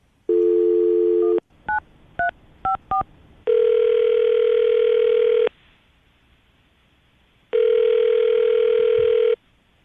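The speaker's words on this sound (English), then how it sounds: "All right, Kaylee, we're going to call him right now" A steady telephone dial tone hums, broken by several short touch-tone dialing beeps, then two long ringback tones with silence between them.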